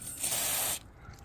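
A short, close hiss of spray from a nozzle onto a coilover top mount bearing on a 1998 Toyota Celica, lasting under a second before cutting off sharply.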